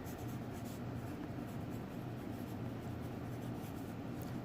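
Steady scratchy scraping of a pencil moving across paper, continuous and close, with no talking.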